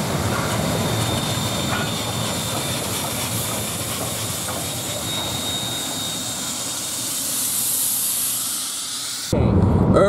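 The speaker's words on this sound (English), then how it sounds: "The carriages are moving." Train carriages begin to roll, giving a steady loud rumble with hiss and rising high-pitched rail noise, then a sudden shift to louder close noise at the end.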